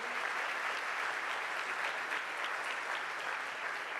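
A church congregation applauds during a Sunday service, a dense, even wash of clapping from many hands that stays level for the whole stretch with no speech over it.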